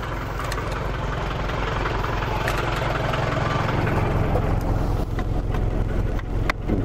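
An Iveco 35-8 van's engine idles, a steady low diesel rumble with a rhythmic knocking pulse, loud and close, the revs rising slightly toward the end.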